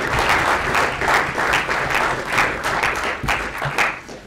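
A lively round of clapping from an audience at a magic and mental maths show for a volunteer, with dense, rhythmic hand claps at close range rising and falling slightly.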